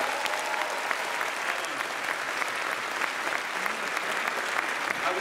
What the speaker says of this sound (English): A round of applause please to Magdalena for an amazing interview